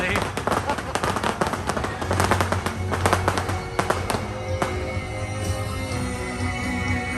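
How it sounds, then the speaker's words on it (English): Fireworks burst all around near the Pinocchio Village Haus at Magic Kingdom in January, a dense run of crackling pops and booms, loud and close, with people talking underneath. "the fireworks are going off all around us, actually."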